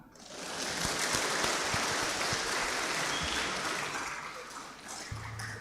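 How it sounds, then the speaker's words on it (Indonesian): Sustained applause from a congregation during a Sunday evening service at a Toraja church: a thick, even wash of many hands clapping that swells early, then slowly tapers. "Tepuk tangan."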